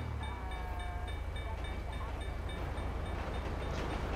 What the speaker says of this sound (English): Oh shoot, train is coming.